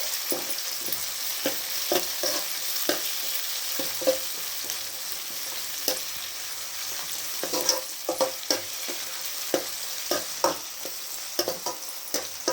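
Ginger garlic paste fries in oil with sautéed onions for a tomato and fenugreek-leaf curry: a constant close sizzle with frequent sharp scraping taps as it is stirred, no one talking.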